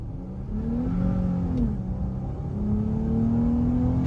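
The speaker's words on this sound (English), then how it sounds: "the best way to try out a car is to absolutely jet it" A 2023 Dodge Charger SXT accelerates hard from inside the cabin, its engine droning loud and steady as the pitch climbs, dips briefly at a gear shift, then rises again with no talking.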